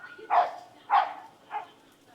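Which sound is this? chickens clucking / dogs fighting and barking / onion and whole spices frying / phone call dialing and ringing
dogs fighting and barking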